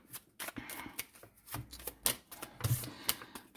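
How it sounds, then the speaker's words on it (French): Tarot cards drawn from a deck, with quiet papery flicks, light taps and rustling in an irregular string of short handling sounds, close but faint. "je vais essayer de tirer plusieurs cartes"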